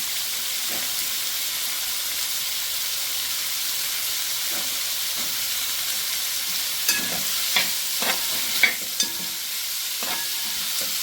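Onion and green chili sautéing in a pan for a coconut-milk chicken curry, a constant hissing sizzle broken near the end by a few spoon taps and scrapes.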